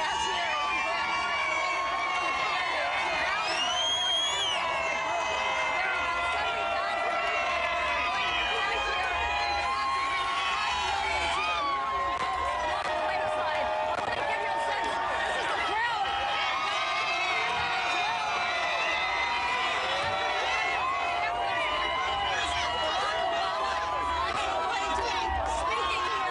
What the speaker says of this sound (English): That crowd around you is so powerful.